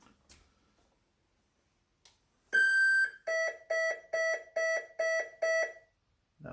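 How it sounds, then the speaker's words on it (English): An E-flite Viper 70mm EDF jet's speed controller powering up on a 6-cell battery: one longer tone followed by six short, evenly spaced electronic beeps, clear and close, with no talking. "That was 6 beeps because it's a 6-cell battery."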